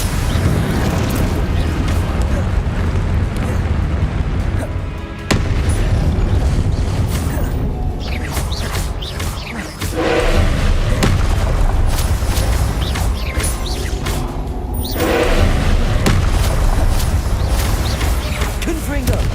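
Spell blasts from Hogwarts Legacy go off in loud, booming bursts amid dense rumbling effects, with a few sharper impacts separated by brief dips in the noise.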